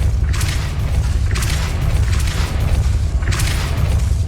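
Depulso spell casts in the Hogwarts Legacy video game, heard as three loud, bright whooshing bursts spaced about a second apart over a steady low rumble.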